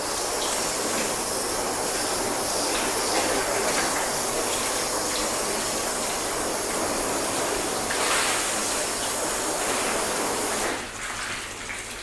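Steady rush of hose water rinsing soap off a freshly washed car, broad and continuous at close range for about eleven seconds before easing off near the end.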